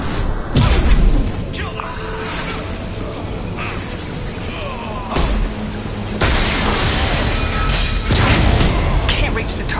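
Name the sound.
gunfire and explosions in the video game Mass Effect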